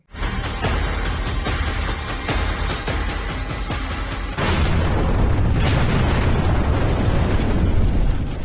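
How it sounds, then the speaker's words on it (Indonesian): A loud, sustained roaring blast with crackling bursts, swelling into a heavier rumble midway, as a private car explodes and burns up close. "mobil itu pun meledak dan terbakar"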